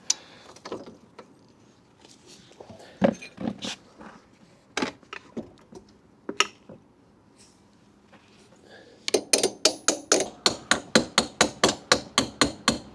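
An axle being hammered into the wheel of a Honda CB125F motorcycle: scattered metallic knocks and clanks, then a rapid, loud, evenly spaced series of about a dozen close hammer blows.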